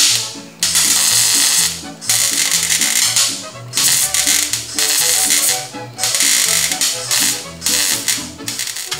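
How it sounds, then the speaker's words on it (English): A hammer edge rolling and tapping sheet metal tight at a spot-weld seam during rust repair on a 1969 Volkswagen Karmann Ghia, a rapid metallic rattling in repeated bursts about every second and a half, close and loud. "I'm actually taking the edge of my hammer, and I'm rolling that in there"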